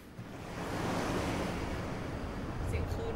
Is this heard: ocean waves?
yes